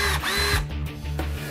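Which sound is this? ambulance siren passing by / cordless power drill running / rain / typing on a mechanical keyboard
cordless power drill running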